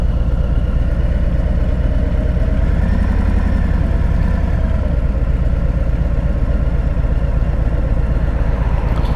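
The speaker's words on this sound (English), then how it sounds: "I feel the heat radiating from this fucking engine." A 2021 Harley-Davidson Freewheeler trike sits idling, its engine a loud, steady, close low rumble with an even pulsing throb that holds unchanged throughout, with no voices over it.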